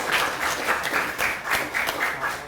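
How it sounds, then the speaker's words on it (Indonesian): A crowd claps steadily in sustained applause, a dense patter of many hands with rhythmic swells, fairly close and without voices on top. "Karena tepuk tangan dulu."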